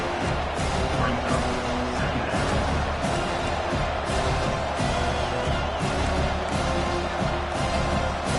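Stadium crowd in the College Football 25 video game, a dense, continuous roar with swells of cheering, heard under a play-by-play commentator's voice throughout.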